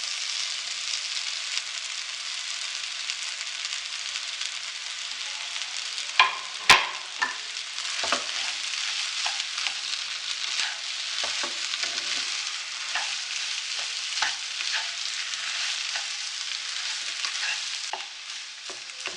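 Potatoes stirred into spices frying in oil in a pan for samosa filling, with a continuous bright sizzle and scattered scraping, clinking stirs, one sharp knock near the middle, no talk.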